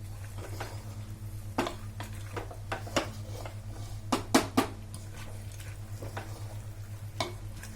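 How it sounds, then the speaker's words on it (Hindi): Chopped vegetables for Sindhi dal turi sauté over medium-low heat, a soft steady sizzle with a spoon scraping and stirring against the pan in scattered knocks, close and without talk. "इसको हम 10 मिनट तक थोड़ी सी मीडियम लो आंच पे इसको हम भूनेंगे।"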